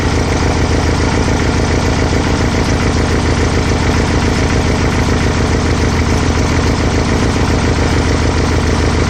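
Volkswagen Type-3 engine with dual carburetors idling close by, a loud, steady, even mechanical chug with no talk over it.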